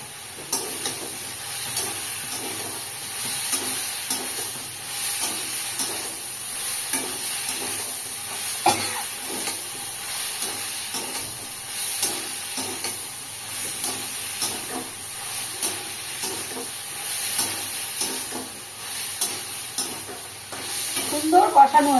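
Mung dal fries with ridge gourd, vegetables and spices in a pan, a continuous sizzle broken by rhythmic scraping and stirring strokes, close and moderately loud, with no talking.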